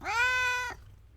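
A cat lets out a single loud, drawn-out meow close by, rising then holding steady for about half a second before cutting off, followed by quiet.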